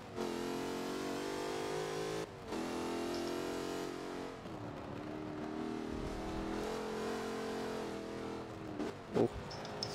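An RS200 rally car in Forza Motorsport 7 accelerates hard, its engine droning and rising in pitch through several gear shifts with brief dips, fairly close and steady over ten seconds.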